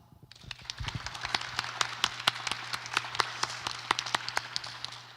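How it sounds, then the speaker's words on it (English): Sparse applause from a small group at a church town hall meeting: a scattering of sharp, separate hand claps in an uneven rhythm over a steady low hum, fairly quiet and close. "give him a round of applause"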